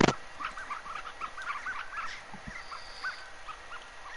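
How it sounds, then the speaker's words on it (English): Ducks quacking in a hunting video game, a cluster of repeated nasal calls scattered across the clip at moderate distance, with a sharp click at the start and a soft thump midway. "Oh, there's ducks."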